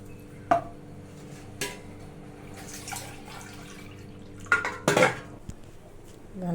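Flour batter for carrot pindi vadiyalu is mixed in a bowl, heard as quiet wet stirring punctuated by several distinct metallic clinks of a spoon against the bowl's side.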